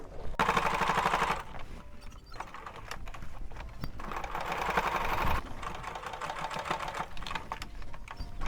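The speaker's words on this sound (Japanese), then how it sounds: "そして縫っていきます。" A sewing machine stitches luncheon mat fabric in two short bursts of quick, even needle clatter, close by, separated by quiet handling and fabric turning.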